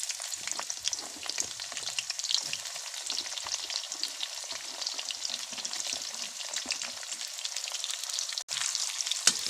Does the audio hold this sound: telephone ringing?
no